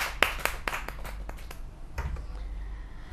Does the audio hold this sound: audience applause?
yes